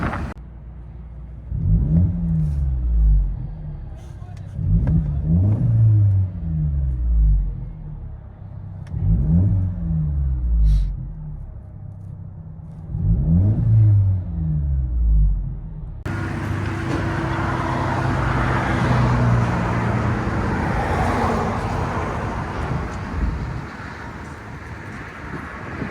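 Interior sound of a 2012 Mercedes C 250 with a muffler-delete exhaust: four strong, evenly spaced revs rising and falling, then a steady louder drone of the car driving with road and wind noise.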